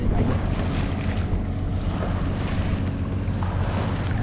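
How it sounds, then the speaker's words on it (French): Waves slapping against a sailboat on the Odet river, a loud rushing wash of water and wind buffeting the hull close by, continuous with no talk. "Elles sont là les vagues."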